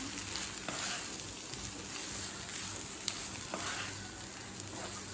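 Cooked rice with brinjal and coriander being stirred and mixed in a hot pan, a steady soft sizzle with faint scraping ticks running evenly throughout, no talking.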